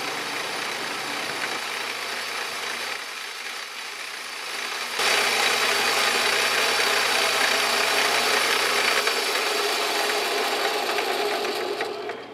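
A steady, close machining roar as an end mill held in a drill chuck mills a flat on a metal part, with a low motor hum underneath that grows louder partway through.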